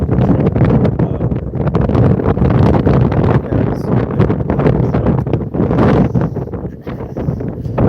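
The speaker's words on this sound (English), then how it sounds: "Yeah, it's super windy right now" Strong gusts buffet an outdoor microphone during stormy weather, a loud, continuous rumbling roar with rapid flutter and pulsing bursts that fill the whole stretch, close and overwhelming any other sound.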